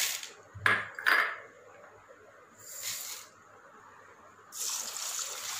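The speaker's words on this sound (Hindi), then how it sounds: "तीन बार इसे साफ पानी से धो लेंगे।" Rice with urad and chana dal being washed in clean water in a pot, quiet splashing and sloshing in a few short bursts with soft scraping of grains against the vessel.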